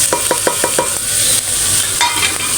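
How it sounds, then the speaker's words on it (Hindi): Spices stirred into browned minced meat (keema) in a pan: a quick series of about five spoon scrapes, then a pause and a couple more, over a continuous close sizzle. "अब हम इसमें तमाम मसाले जो रखे थे हम ये डालेंगे इसमें"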